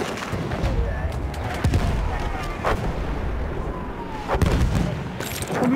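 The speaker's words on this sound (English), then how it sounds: "There, enemy machine gun." Enemy machine gun and heavy gunfire in Battlefield 1 on hardcore mode, with repeated sharp bursts and booming reports rolling over continuous battlefield noise, some near and loud.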